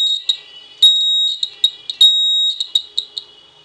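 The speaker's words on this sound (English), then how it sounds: "My hands are not stable, that's why the alarm is beeping." A homemade earthquake alarm circuit with a bob that closes the contact on touching gives a series of shrill, high electronic beeps, some short chirps and some held tones, loud and irregular as the bob wobbles.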